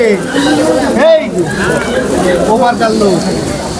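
Pigeons coo with soft, rolling calls throughout at a busy pigeon market, mixed with loud nearby talking and price haggling.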